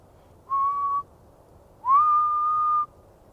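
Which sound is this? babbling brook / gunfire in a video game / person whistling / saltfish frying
person whistling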